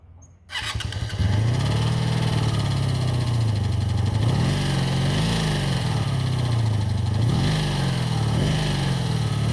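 A 1985 Honda V30 Magna 500 motorcycle starts cold after a brief quiet moment and settles into a loud, steady idle with a few small rises in engine speed.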